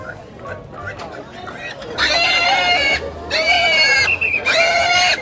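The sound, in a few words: pigs oinking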